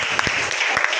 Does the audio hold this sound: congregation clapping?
yes